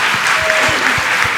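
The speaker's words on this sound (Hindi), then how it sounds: "यदि आपने दान नहीं भी दिया तो कम से कम ताली बजाने का" Audience applause at a Hindi religious discourse, a dense, loud and steady wash of many hands clapping that fills the whole moment without pause.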